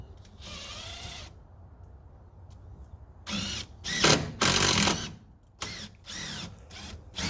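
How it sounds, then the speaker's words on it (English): Power drill boring holes into wood during a shed build, several short bursts of whining drilling separated by pauses, close and fairly loud. "I'm just drilling out all my holes here because I do not want this piece splitting"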